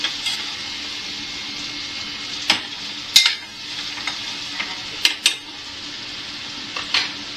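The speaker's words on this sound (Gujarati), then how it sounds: "એની અંદર ટમેટું નાખી અને થોડુંક હલાવી દઉં છું" Chopped tomato goes into frying masala in a pan, giving a steady close sizzle broken by several sharp clinks and scrapes of a spoon stirring against the metal pan.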